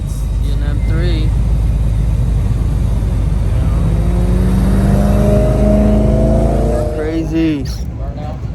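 Engines rev loudly at a street car meet in California, one car holding a rising roar before a quick pass, with crowd noise and talking throughout.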